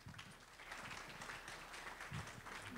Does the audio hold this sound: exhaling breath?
no